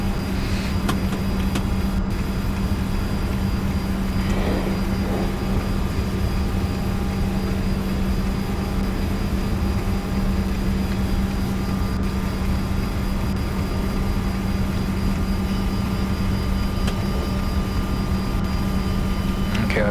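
Engines of a Challenger 605 business jet run steadily before takeoff at Hanoi, a continuous whining hum with a low drone, heard from the cabin or cockpit at constant level, with no voices.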